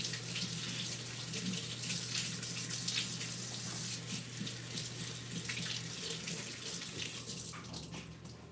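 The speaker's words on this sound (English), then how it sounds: "I need to wash my hands since I just cracked eggs." Water runs steadily from a kitchen tap into a sink while hands are washed after cracking eggs, a close, continuous splashing gush with small changes in flow and faint clatter, with no speech.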